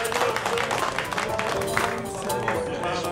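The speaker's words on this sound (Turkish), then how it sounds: "Alkış." An audience claps in continuous, fairly dense applause with some crowd noise mixed in, lasting a few seconds at steady volume.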